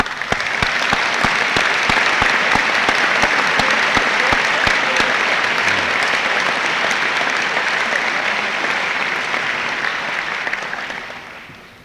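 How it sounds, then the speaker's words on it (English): A graduation audience at a 1987 Founders Day ceremony applauds the graduates' parents. Loud, dense, sustained clapping that fills the hall for about ten seconds, then fades out. "These people are our parents, and I think we owe them a round of applause."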